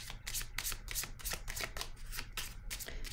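Oracle cards being shuffled by hand, a steady run of quick riffling card sounds close up, alone without talk.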